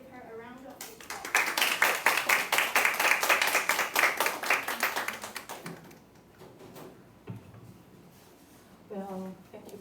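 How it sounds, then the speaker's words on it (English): A lecture audience at NTNU applauds a guest teacher after her introduction, a dense patter of claps building up, holding for several seconds and then fading into room noise, with a voice briefly speaking near the end. "So please give her a round of applause."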